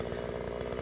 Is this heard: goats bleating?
no